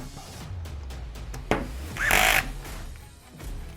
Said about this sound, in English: So then you want to tighten the 3 screws that hold the motor in.